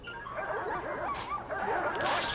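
An injured dog whimpering in the Prison Architect video game: a string of faint, rapid high yips and whines repeating over a soft background.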